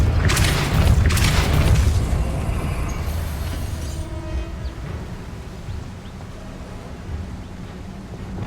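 A Depulso spell is cast in the video game Hogwarts Legacy, giving a loud booming burst with a rushing, wind-like whoosh that fades into a low rumbling ambience.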